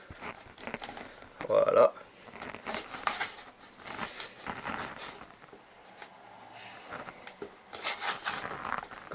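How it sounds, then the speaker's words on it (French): Tape being peeled off the box of a Sony ZV-E10 camera lens package makes crinkly, tearing bursts of plastic and paper handling close to the microphone, with a person speaking French in between. "essayer de pas abîmer le scotch."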